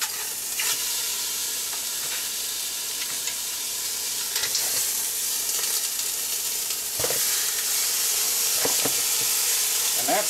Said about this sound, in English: you can hear the chicken sizzling in the background